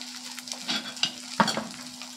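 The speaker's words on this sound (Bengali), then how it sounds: "আস্তাকে একদম কিন্তু কমিয়ে এটাকে ভালো করে ভেজে নিতে হবে।" A Maggi noodle omelette frying in a pan with a steady, gentle sizzle and a few utensil scrapes and taps as it is stirred and turned.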